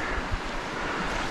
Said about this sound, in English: for this creek, it's ripping pretty good